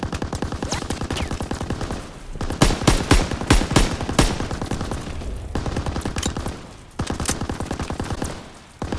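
A World War II machine gun from Call of Duty: WW2, fired during a hill assault, rattles in long sustained bursts with heavy, dense gunfire. Brief gaps break it up, and no voices are heard over it.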